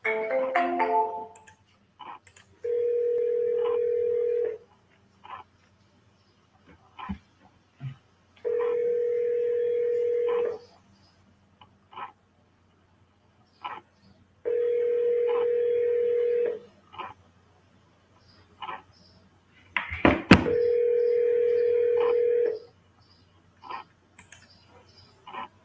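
Outgoing phone call to a seller ringing on the line: after brief dialing tones, four long, steady ringback tones repeat about every six seconds with quiet gaps between them and no voices.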